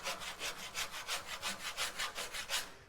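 A four-in-hand rasp shapes the wooden deck of a small boat in quick, even back-and-forth strokes, about five per second, close and fairly quiet, with no voices.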